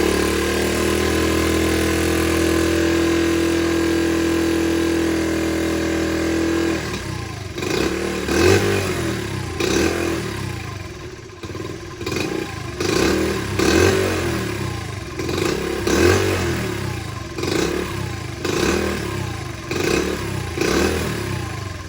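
A 1976 Honda CT70 motorcycle engine with a carburetor needing cleaning runs loud and close with the choke on, first holding a steady drone, then turning ragged with uneven, pulsing bursts as it fails to settle into an idle.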